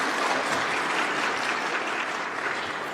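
Dense, steady applause fills the UN General Assembly hall, a large crowd clapping continuously and evenly without a break for about three seconds.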